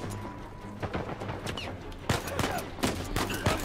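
DMR rifle fire in Uncharted 4, sharp cracks fired in an irregular volley over a busy combat soundscape, mid-distance and fairly loud, with heavier shots toward the end.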